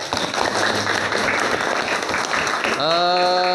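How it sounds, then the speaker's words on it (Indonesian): A class of students applauds, the clapping dense and lively, with a tonal sustained sound rising near the end over the last of the claps. "Tepuk tangan buat teman kita."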